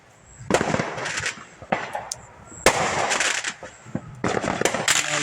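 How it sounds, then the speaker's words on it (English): Small fireworks go off close by outdoors, a rapid string of sharp crackling pops and bursts in irregular clusters, loud and near, with faint voices in between. "I'm doing fireworks."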